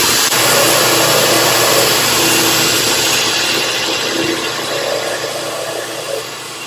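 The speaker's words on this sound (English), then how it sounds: "I'm going to come in and take some of these rough grind lines off the head." A power grinder runs steadily against a forged knife, removing rough grind lines with a loud, continuous whirring roar that eases slightly toward the end.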